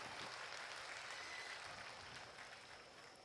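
Audience applause at a live Saurabh Kumar comedy show: dense, steady clapping from a large crowd, continuous throughout and tapering slightly toward the end, with no talking over it.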